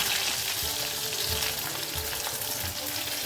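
Chopped small onions fry in hot oil for a fish curry, giving a steady, close, fairly loud sizzle and crackle with faint stirring, no voices.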